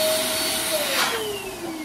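A big 16-inch rainbow-coloured balloon is inflated with a loud, steady, close whooshing drone whose tone slides gradually lower, with no talk.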